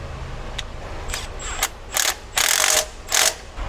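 A ratchet snugs up the alternator bracket bolt on a 1962 Chevrolet C10 during air-conditioning installation, making loud, close bursts of rapid clicking, several short runs with brief pauses between.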